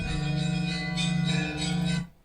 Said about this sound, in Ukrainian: І тільки він рушив йти, як знов він чує церковні дзвони.